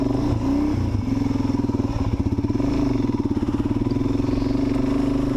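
A Suzuki DRZ400 dirt bike climbs a trail with its engine chugging in a steady, throbbing pulse, loud and close throughout, with some clattering and thumps from the terrain.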